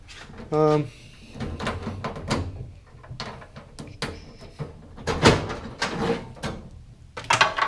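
Socket drawer of a tool chest sliding open amid clattering metal rattles and clunks, with a person talking over the handling noises.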